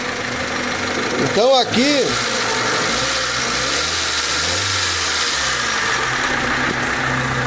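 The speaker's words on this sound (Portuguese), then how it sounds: "não é aquele motor redondinho, super suave, mas longe de ser um motor com batidas, folga nos bancais" A 1999 Honda Civic engine idles steadily and slightly rough, a continuous low hum throughout, with a brief voice speaking over it near the start.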